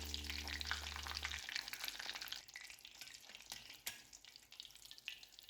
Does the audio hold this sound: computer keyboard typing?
no